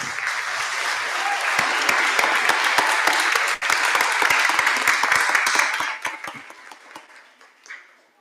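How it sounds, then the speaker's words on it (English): Audience applause at a school board meeting fills the room with dense, sustained clapping, some sharp individual claps standing out, before thinning and fading toward the end. "You applauding just meant a lot to us up here."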